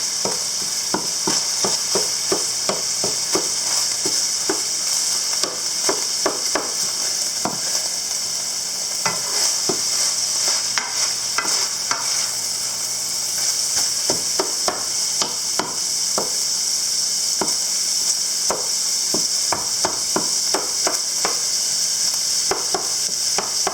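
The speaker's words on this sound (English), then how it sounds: "Let's give it a good stir." Chili with brown sugar and little water sizzles steadily in a pot while a spoon stirs it, sending repeated scraping strokes and chunky clicks over a constant bright frying hiss, close and loud with no talking.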